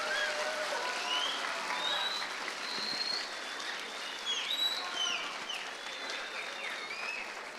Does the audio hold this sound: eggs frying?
no